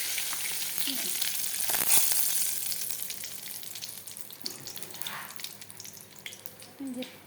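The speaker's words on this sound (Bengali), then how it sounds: "তেলের উপরে আমি তেজপাতা দিয়ে দেবো" Bay leaves drop into hot oil in a wok, setting off a close, steady sizzle with crackles and occasional utensil knocks, moderately loud and continuous, with faint voice sounds near the start and end.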